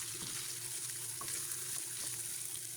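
Seasoning with salted anchovies, red sugar and white sugar sizzles steadily as it is stir-fried in a pan, a close, continuous hiss with light scraping from stirring and no talking.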